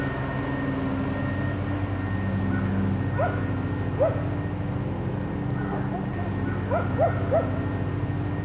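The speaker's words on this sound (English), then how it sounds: "We've had dogs barking." Dogs bark faintly in the distance during an evening deer hunt from a stand, a few short scattered yaps over steady outdoor hiss and low hum.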